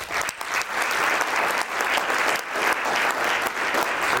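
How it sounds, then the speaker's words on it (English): Applause from the audience at a chamber of commerce State of the Chamber speech, for the chamber staff. It is a dense, steady wash of many hands that holds strong for about four seconds, with no talking over it. "to our chamber team, please give them a round of applause"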